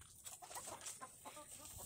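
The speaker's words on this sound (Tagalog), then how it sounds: "Ito po yung isa pong manok ko." A backyard chicken clucks in a few quick, quiet bursts at moderate distance, set against a faint steady hiss.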